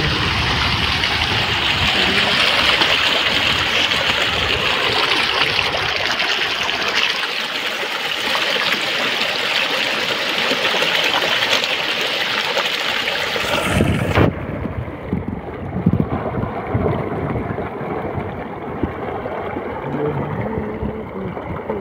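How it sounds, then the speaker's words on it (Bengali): Strong stream water rushing over the rocks of the Ajay river at a rocky village riverbed, a loud, dense, continuous roar that dips slightly in tone partway through. "আর জলের প্রেসার দেখো এখানে।"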